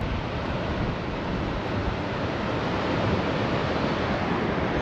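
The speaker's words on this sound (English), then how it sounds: "Proper waves." Ocean surf breaks steadily along the shore at Robberg Nature Reserve in South Africa, a loud continuous roar of waves mixed with wind, with no speech.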